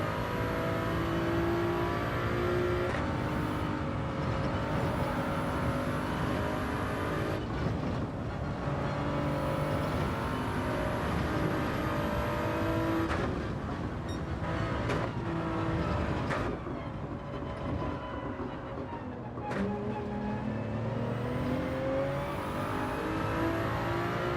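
A Toyota Supra race car engine in Gran Turismo 7 drones steadily and loudly throughout, with gear-shift dips and revving swells as the car races, alone without talk.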